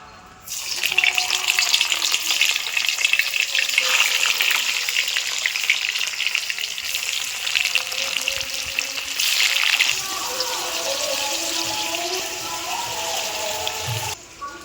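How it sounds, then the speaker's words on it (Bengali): Paneer pieces frying in oil and ghee, a loud dense crackling sizzle that holds steady for most of the clip and eases slightly near the end, close and with no voices. "এবার আমি পনিরগুলো ভেজে নেবো"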